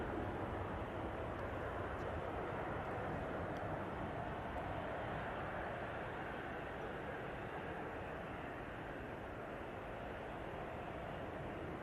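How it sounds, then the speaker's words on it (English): Pratt & Whitney airliner engines spool up at Manchester Airport as a broad, steady roar heard from a distance, filling the scene evenly throughout. "Good to hear those Pratt & Whitneys and spool up"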